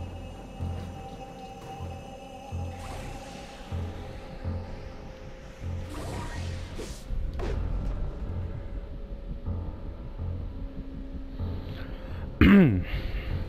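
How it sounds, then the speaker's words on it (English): A single sharp cough from a person near the microphone, heard near the end over tense, steady video game music from Psychonauts 2. "Sorry for the cough."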